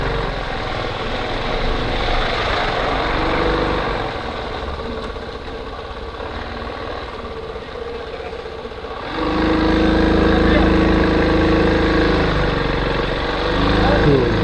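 Motorcycles grind through the wet sand sea at Mount Bromo after rain: a steady, loud engine drone that swells into a heavier, closer rumble partway through, with people talking over it.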